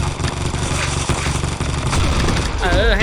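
Rapid, dense bursts of automatic gunfire from the mobile shooter game Combat Master, loud and continuous with mechanical weapon and reload noises layered over game effects.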